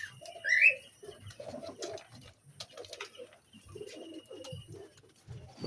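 Low, soft cooing from several pigeons on a pigeon farm, continuous and overlapping, with a brief higher call near the start.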